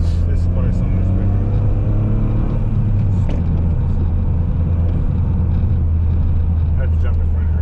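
A Toyota GR Corolla is driving, heard from inside as a steady low engine and road rumble throughout, with faint talk barely showing above the drone.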